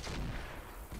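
Weapons fire in the video game Roguetech, one heavy, booming burst of gunfire that fills the brief moment loudly and alone.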